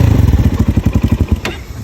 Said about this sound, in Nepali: बाइक अनमा राखौँ है। यसलाई पनि स्टार्ट गरेर हेरौँ है।